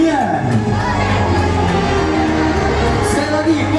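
An audience at a show at SeaWorld Ancol aquarium shouts together to chase away the Nian, a loud, sustained crowd roar with children's voices mixed in and an announcer speaking over it.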